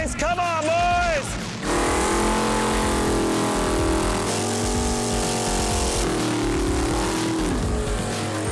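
Mopar drag race cars fire up at Indy, a short spoken burst giving way to loud engines roaring and revving close by, their tones rising and holding over a roaring rumble.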